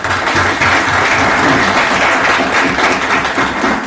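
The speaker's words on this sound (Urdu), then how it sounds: "اس کے لیے آئی ریکویسٹ کہ کاظم صاحب کے لیے بھرپور تالیاں۔" An audience at a Lahore Chamber of Commerce & Industry event applauds steadily, a dense wash of clapping hands that stays loud throughout.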